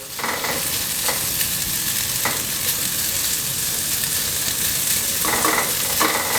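Beef sizzles loudly and steadily as it sears in a hot pan, with occasional scraping stirs cutting through the constant crackle.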